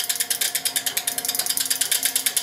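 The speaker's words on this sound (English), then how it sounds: "You can see it's running down the relays. You get that lovely noise." Relays in a plasma seven-segment display relay machine click in a rapid cascading run, a steady stream of sharp, close mechanical ticks with no voice over them.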